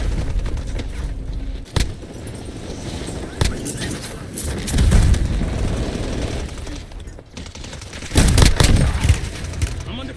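Gunfire and explosive bursts in a war video game, with sharp shots and louder booms near 2, 3.5, 5 and 8.5 seconds over a dense, continuous battle backdrop.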